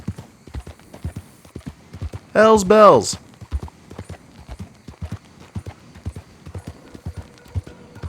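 A horse's hooves clip-clop in a steady, even rhythm throughout a Red Dead Redemption 2 game scene. A short spoken exclamation cuts in briefly partway through.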